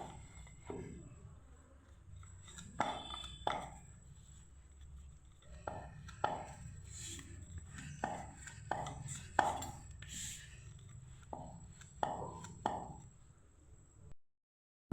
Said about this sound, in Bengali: মাঝামাঝি এরকম ছুরির সাহায্যে আমি কেটে নেব।